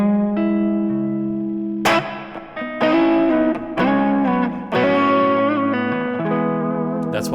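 Electric guitar played through an Axe FX 3: clean sustained chords and picked notes with a slight bite, close and full, with no talking.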